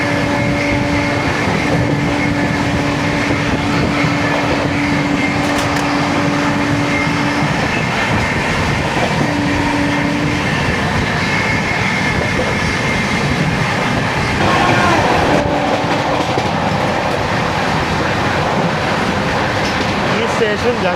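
Ajmer Ernakulam Marusagar Express runs through a junction, heard from on board as a loud continuous rumble and wheel clatter, with some talk and tonal squeals mixed in.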